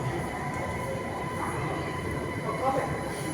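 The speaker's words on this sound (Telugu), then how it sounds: "ఇప్పుడు ట్రైన్ వచ్చింది" A driverless metro train arrives at a Line 8 station platform, a steady low rumble with a faint wheel squeal near the end, under a voice speaking.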